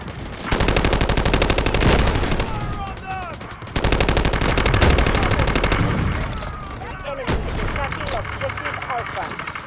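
Loud automatic gunfire crackles in the video game Delta Force in repeated sustained bursts, with sharp single shots between them. A voice talks over the shooting.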